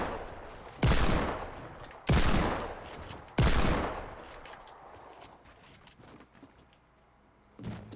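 Gunfire in the Fortnite video game comes as three loud, booming shots spaced about a second apart, each with a rumbling decay, then quieter scattered game sounds and one more blast at the end.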